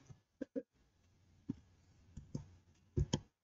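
Commands typed at a command line on a computer keyboard, quiet, sparse clicks landing singly and in short pairs, ending in a final cluster of keystrokes, with no talking.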